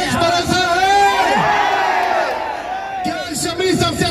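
A crowd at a cricket World Cup fan park in Agra roars and whoops loudly, voices rising and falling together in excited cheers, with a brief lull before another burst.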